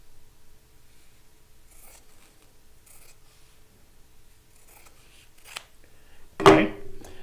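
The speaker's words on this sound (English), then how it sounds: "I'm going to cut it with my scissors right on the fold line" Scissors cut fabric along a fold line, heard as a few faint, close snips and rustles followed by one louder, sharper cut near the end.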